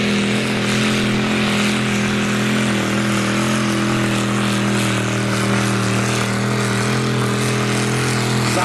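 A homemade pulling tractor at the Friesack tractor pull, its engine a loud, close, sustained droning roar held steady as it moves off gently under load.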